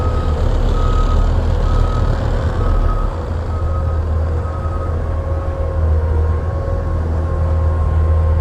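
A 2022 Bobcat T770 compact track loader sounds a loud, steady backup alarm over its running engine rumble, with no talk.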